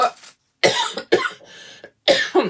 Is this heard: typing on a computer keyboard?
no